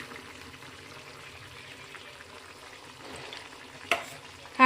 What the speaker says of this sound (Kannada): ನುಣ್ಣಗೆ ಗ್ರೈಂಡ್ ಮಾಡಿರೋ ಮಸಾಲ ಕೂಡ ನಾನು ಆ್ಯಡ್ ಮಾಡ್ಕೊತಾ ಇದ್ದೀನಿ